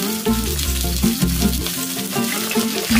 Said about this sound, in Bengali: প্রথমে এখানে বেগুনটা ভালো করে ভেজে নেব।